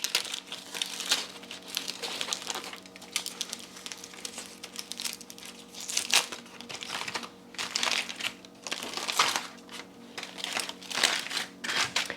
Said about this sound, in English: So we're just gonna take it out of the foil.